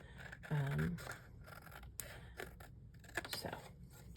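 Scissors snip through card-making paper a few times with short crisp cuts, while a person talks softly between the snips; a sharper click lands at the very end.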